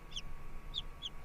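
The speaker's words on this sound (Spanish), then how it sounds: "¿Recuerdas el sonido del pollo?" Three short, high chicken clucks spaced about half a second apart, faint and close, with nothing else beyond a quiet background hum.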